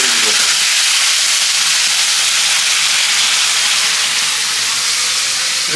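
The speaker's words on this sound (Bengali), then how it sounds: "হালকা ভেজে নিই।" Ingredients frying in a pan for chowmein, a loud continuous sizzling hiss that holds steady throughout, close and unbroken, with no talking.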